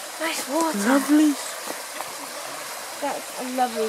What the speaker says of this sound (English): That's a lovely stream.